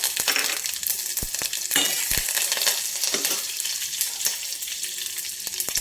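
Cumin, fenugreek, curry leaves and dried red chillies hit hot oil for a vaakkaya rasam tempering, giving a loud, steady sizzle with scattered sharp crackles and pops throughout.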